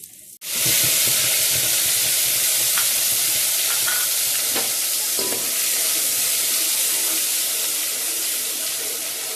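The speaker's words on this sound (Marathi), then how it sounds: "आता पहिलं आपण तेलामध्ये हिंग टाकूया।" Asafoetida dropped into hot oil bursts into a loud, close, steady sizzle that starts abruptly and continues unbroken, with a few faint clinks in the background.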